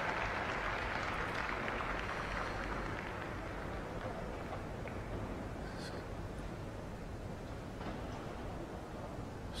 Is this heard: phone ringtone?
no